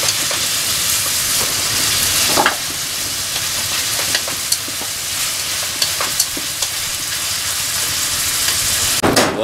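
Meat stir-fries in a hot pan, a loud, close, continuous sizzle and crackle broken by occasional scrapes and clatters of stirring, with no one talking.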